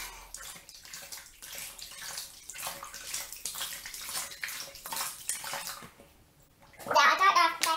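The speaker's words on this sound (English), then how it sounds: "And then you want to rinse it off." Running tap water splashes steadily while a face is rinsed after a baking-soda pore scrub, continuous and close, with a brief quieter gap before a brighter burst of splashing at the end.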